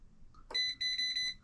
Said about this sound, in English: You touch the black wire, you get the beeping.